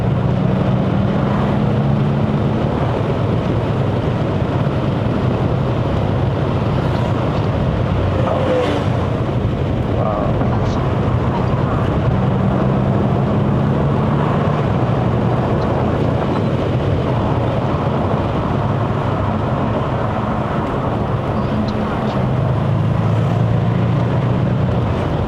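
A 2012 Audi S8 with a 4.0L TFSI bi-turbo V8 accelerating on a Genting hill run in Malaysia, heard from the driver's seat: a steady, loud cabin roar of engine and road noise that runs unbroken with no talking.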